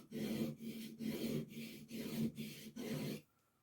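A chisel is sharpened by hand on a sharpening stone: six steady back-and-forth rasping strokes, close and evenly paced, then the scraping stops.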